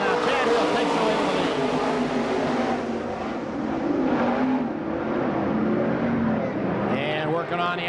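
Pure stock race cars roar together at the green flag at a Franklin, PA dirt track, a dense, steady engine drone with rising revs, heard under continuous race commentary.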